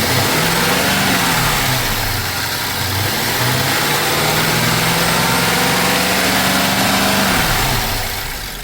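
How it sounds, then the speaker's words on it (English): A car engine runs close and loud during a catalytic converter test, its pitch rising and falling as the throttle is revved up and eased off in a few swells before settling. "Let me accelerate and see."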